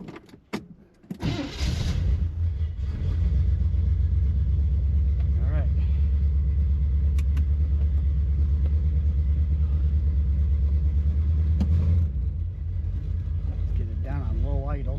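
A low, steady engine idle from an old red Chevrolet Corvette, steady and fairly loud after it fires up, with people talking over it.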